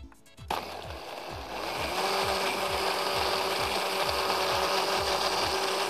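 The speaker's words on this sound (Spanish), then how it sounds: "Ahora a mezclar, a licuar." A kitchen blender whirs up to speed with a repeated ratcheting pulse and then runs loud and steady while mixing mayonnaise, heard close with no talking.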